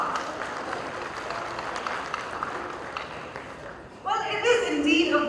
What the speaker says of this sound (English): giving each and every one a warm round of applause for the success story so far